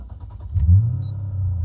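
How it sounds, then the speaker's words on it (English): A 2009 Toyota Crown Majesta G package's power seat and steering wheel motor forward on startup, giving a steady low electric whir that hums on at close range for over a second after a brief rustle. "when you turn the car on as well, it actually brings the steering wheel and the seat forward for you into your position."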